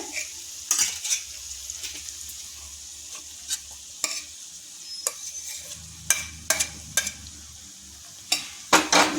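Sorrel leaves stirred into a frying curry in a pan, a steady low sizzle under scattered sharp scrapes and taps of a utensil against the pan, close and unhurried, with no talking.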